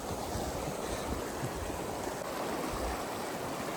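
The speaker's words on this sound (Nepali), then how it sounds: "कलल पानीको आवाज" Gurgling stream water runs through a snowy high-altitude valley, a steady broadband wash with no pauses, loud and close, with slight wind noise on the microphone.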